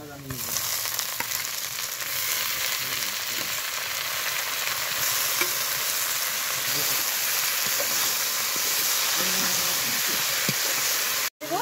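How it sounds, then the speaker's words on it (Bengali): Boiled drumstick leaves being fried and stirred in a pan with onion, garlic and green chili, giving a steady loud sizzle throughout with occasional stirring scrapes, ending in a brief cut near the close. "এইখানে দিয়ে দিব সেদ্ধ করা রাখা সজনের শাক"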